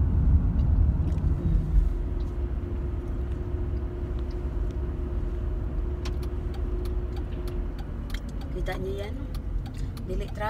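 A car driving through Roseburg, Oregon gives a steady low interior road rumble throughout, with light ticking and clicking near the end and no speech over it.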